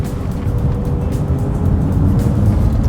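Aston Martin V8 Vantage with a 4.7-litre V8 and Sport Shift gearbox creeping through a car park, giving a loud, steady low engine burble at low speed with no voices.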